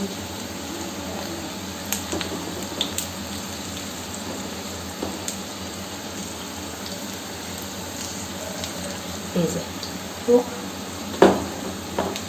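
Onion pakoras fry in hot white oil, a steady soft sizzle with a few louder pops and stirring noises near the end, and a voice speaking now and then.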